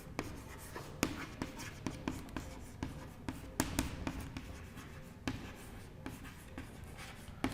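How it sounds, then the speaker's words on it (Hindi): Chalk or marker writing on a board in a history lecture, with a steady series of sharp taps and scraping strokes close by, occasional pauses between words, and no talking over it. "मैं यहाँ पे लिख देता हूँ"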